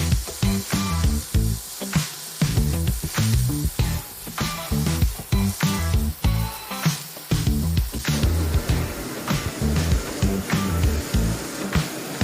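Asian turkey meat sizzles on a grill pan over heat, a steady crackling hiss punctuated by repeated soft pops and spatters at close range, with no talking.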